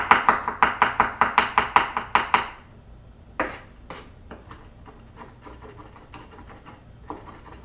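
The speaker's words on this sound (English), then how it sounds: "And garlic as well, quick dice." A knife quickly dices garlic on a board, fast rhythmic crisp chops for about two and a half seconds, then scattered scraping and a few lighter taps, close and clear, with no talking.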